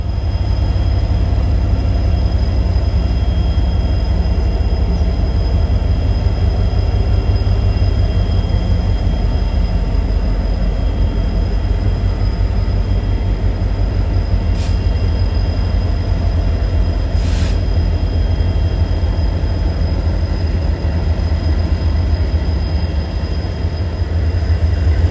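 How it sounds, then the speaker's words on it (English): A Union Pacific SD70M locomotive hauls a train past, a loud, steady rumble with a thin high whine running throughout, no voices. "a chance encounter with a Union Pacific SD-70M is like finding a diamond"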